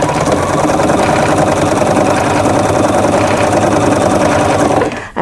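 A sewing machine stitches steadily through a quilt, its loud, even mechanical whir running continuously without pause before cutting off abruptly at the very end.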